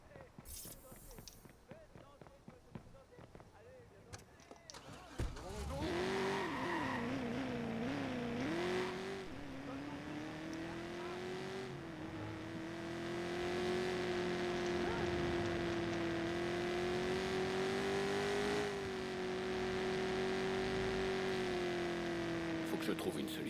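Car in the video game Watch Dogs pulls away and accelerates, its engine tone climbing then holding a steady drone for about twenty seconds after some brief clatter at the start, fairly faint and with no speech over it.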